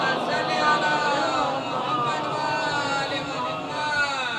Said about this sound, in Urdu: ایک مولانا کے استقبال میں ایک بلند ترین نعرے صلوات